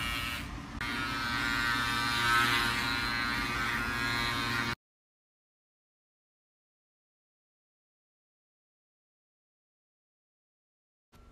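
A Panasonic wet or dry electric bikini line trimmer buzzes steadily and fairly loudly for about four and a half seconds, then cuts off into silence.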